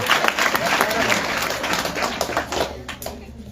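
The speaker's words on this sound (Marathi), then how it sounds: "जोरदार टाळ्या वाजवा." Many hands clap loudly together in a seminar audience at a motivational talk, a thick wash of applause that gradually thins and fades toward the end.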